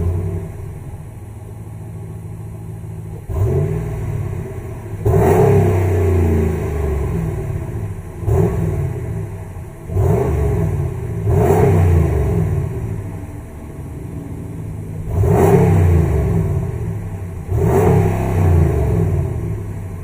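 The 5.7 litre HEMI V8 of a 2018 RAM 1500 Laramie pickup revving repeatedly, about seven loud, deep throttle blips rising and falling over a steady idle rumble, recorded close with no speech.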